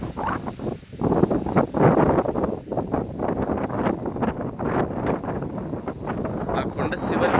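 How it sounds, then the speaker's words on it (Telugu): Heavy wind blowing over a rocky hilltop, buffeting the microphone in loud continuous gusts, with a voice faintly mixed in at times. "గాలి, మామూలు కాదు అసలు."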